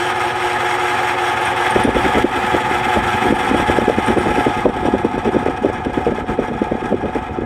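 An Emerson/Sears 52-inch friction drive ceiling fan motor runs at low speed, giving a loud, steady hum with a rapid rhythmic pulsing flutter that sets in after the first couple of seconds.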